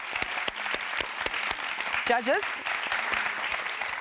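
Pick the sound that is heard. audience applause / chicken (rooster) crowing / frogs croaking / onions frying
audience applause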